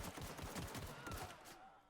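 A rapid string of faint gunshots rattles off in quick succession during video game combat, then trails away.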